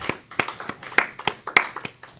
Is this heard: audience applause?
yes